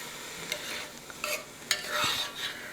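Vegetables for a chicken noodle soup cook in a pot, giving a soft sizzle under intermittent stirring scrapes and light utensil clinks, close and continuous over a few seconds.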